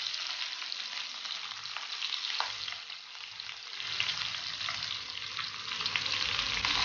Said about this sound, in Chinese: 两面煎香后放入姜葱爆香一下，